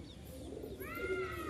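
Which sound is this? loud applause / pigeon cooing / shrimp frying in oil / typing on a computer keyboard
pigeon cooing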